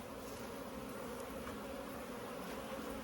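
Honey bees drone steadily inside a large hive, a dense continuous buzzing held close and even throughout with no voices.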